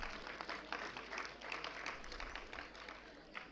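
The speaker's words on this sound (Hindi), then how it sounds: "जोरदार तालियों से आपका स्वागत करेंगे" Audience applause welcoming a guest at a foundation day celebration, a dense, continuous patter of many hands, faint and distant in the hall.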